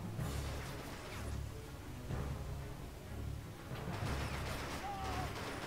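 Submachine gun fire and distant explosions in the war game Men of War: Assault Squad 2, rumbling bursts and thuds spread through a noisy battlefield mix, with a voice talking over it.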